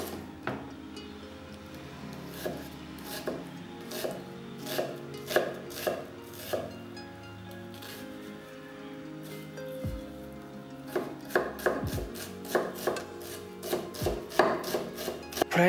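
A knife rapidly mincing a whole onion on a cutting board, with bursts of crisp, rhythmic chops separated by a pause, close and clear with no talking.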